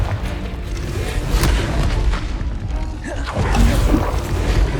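A Confringo blasting spell explodes in the Hogwarts Legacy video game, a dense booming rumble with crashing debris and whooshes, loud and continuous through a hectic combat mix.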